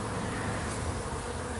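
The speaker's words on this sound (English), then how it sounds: "Well, bees are aggressively attacking each other" A dense, steady buzzing of robber bees fighting at a hive entrance, continuous and close, with no voices.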